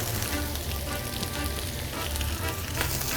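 An omelette made with Doritos nacho chips fries in a hot pan, a dense steady sizzle that is close and constant with no pauses.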